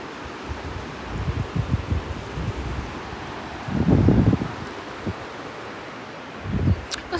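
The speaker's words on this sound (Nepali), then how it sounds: "कस्तो हावा लागेको" Wind gusts through leafy trees in a hill village, with close, loud rustling that swells into stronger bursts and buffets the microphone, then eases off between gusts.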